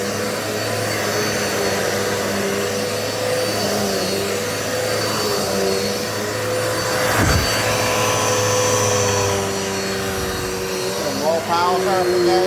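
A Dirt Devil multisurface vacuum cleaner runs over medium pile carpet with a loud, steady droning whine that shifts pitch slightly toward the end, heard up close as one continuous sound.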